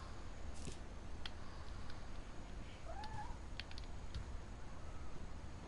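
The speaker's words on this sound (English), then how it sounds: "I just heard a cat." A cat meows faintly a couple of times in the video game What Remains of Edith Finch, a quiet, distant cry over a low background hum, with no talking.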